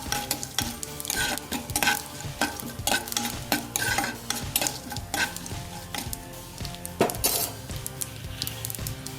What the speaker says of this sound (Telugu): కాజు రెడ్గా వచ్చే వరకు వేయించుకోవాలి.